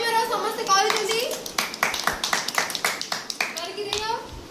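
Children clapping their hands together during a classroom project day, a series of sharp, rhythmic claps in a short burst, with kids' voices and an adult speaking before and after.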